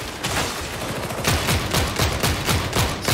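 Rapid gunfire from a shooter game set in the Warhammer 40,000 Darktide universe, a dense run of repeated sharp shots and bursts that stays loud and close for the whole stretch with no talk over it.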